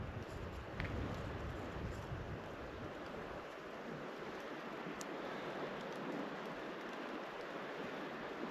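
Steady, dense hiss of rain falling by the river Wda, a continuous broadband wash that stays even and fairly loud throughout, with no voices and only a faint tick or two above the downpour.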